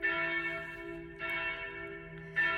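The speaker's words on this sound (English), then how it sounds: "The bell rings for a long time" A church bell ringing on a Sunday, a few close, loud, resonant strikes with a long humming decay between them.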